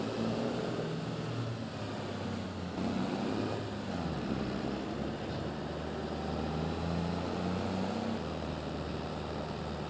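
Farm tractor pulling a trailer in a farming simulator game, a low, steady engine drone that holds constant over ten seconds, fairly quiet, with a slight shift in pitch as it reverses.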